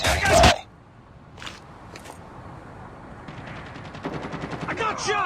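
Call of Duty gunfire with a loud shot burst at the start, then quieter scattered shots and a rapid automatic rattle toward the end, alongside game sound effects.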